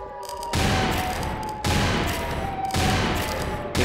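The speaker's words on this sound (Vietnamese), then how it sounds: "Cái súng pháo này của mình đang tấn công bằng hướng quỷ Loa này bạn ạ. Nó bắn rất nhiều đạn luôn này." A cannon gun in a horror video game fires many rounds at the Siren Head monster, three loud sustained bursts of rapid gunfire separated by brief gaps, with no talking.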